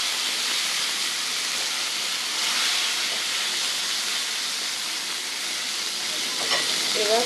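Tomato goes into hot oil with cumin and five-spice seeds in a pan, and a loud, steady, hissing sizzle fills the whole stretch, close and unbroken.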